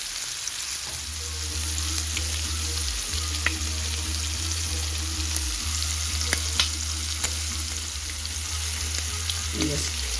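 Shrimp sizzling in a skillet with paprika, a steady crackling fry hiss with small pops and occasional scraping or stirring, continuous and fairly close under a low background hum.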